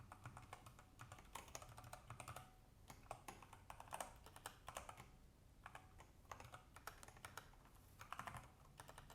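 Steady computer-keyboard typing during a live open-source coding session, with dense irregular keystrokes and brief bursts of clacking running throughout, close and moderately quiet, with no speech over them.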